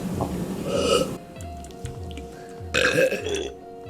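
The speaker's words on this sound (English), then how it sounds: "Those are a lot better burps than the last one." Several loud, drawn-out burps from one person, two big bursts separated by quieter, croaking belching, close to the listener with no talk over them.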